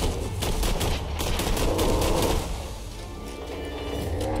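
Dense rapid gunfire from a Borderlands 3 Commander Lilith firefight, steady bursts of overlapping shots running throughout, loud and close, easing slightly in the second half.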